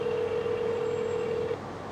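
An outgoing phone call gives off a steady ringback tone, one continuous hum lasting about a second and a half, moderately loud over faint background noise.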